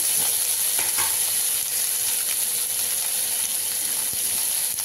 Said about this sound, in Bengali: এই পেঁয়াজটা একটু ব্রাউন হয়ে এসছে, এবার আমি একটু টমেটো দিয়ে দিই, একটু নাড়াচাড়া করার পরে